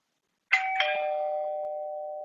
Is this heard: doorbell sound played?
yes